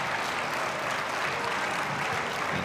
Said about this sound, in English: The crowd is going bananas here.